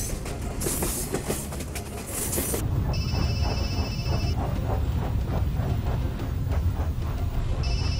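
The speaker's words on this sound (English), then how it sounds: "It'll take at least 2 miles for that train to stop at the speed it's going." Steam locomotive No. 587 hauls a train along a main line at speed, giving a loud, close, continuous rumble with clattering wheels and brief high squeals from the rails.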